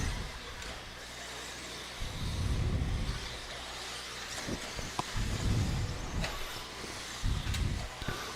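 Radio-controlled off-road cars race on a dirt track at an RC raceway, their motors rising in three loud buzzing passes that swell and fade against steady background noise.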